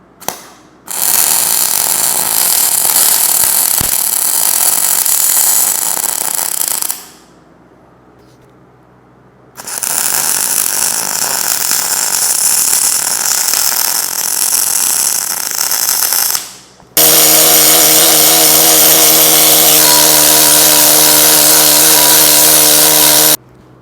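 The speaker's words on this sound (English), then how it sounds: "I'm gonna grab the welder, go back through these spots." Welder repairing cracks on a dragline crane, loud crackling bursts of arc welding in three long runs separated by short pauses, close and harsh.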